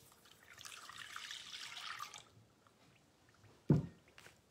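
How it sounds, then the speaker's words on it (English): Two cups of milk poured into a bowl for curd pancake batter, a soft steady liquid stream for about two seconds, followed by a brief louder knock or clunk near the end. "you're going to add the 2 cups of milk"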